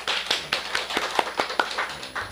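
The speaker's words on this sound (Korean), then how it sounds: "영광과 박수" A church congregation applauds, with a run of sharp, fairly sparse hand claps close by for a couple of seconds.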